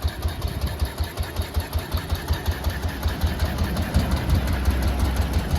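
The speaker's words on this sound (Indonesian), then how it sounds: "Nah ini untuk suara BMW nya." A 1957 BMW R26 single-cylinder motorcycle with original 6-volt ignition idles close by, its steady low thumping pulses even and regular, then growing slightly rougher and fuller near the end, with no talking.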